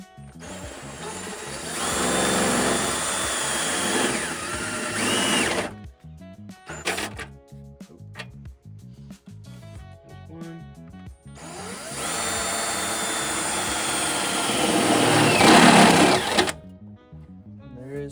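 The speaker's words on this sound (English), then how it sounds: "Let's try to drill this. Try to be as straight as possible." A drill bores a rivet-nut hole into the body of a turbocharged BMW E36 in a garage, two sustained loud whining runs of several seconds each separated by a pause with light handling noise.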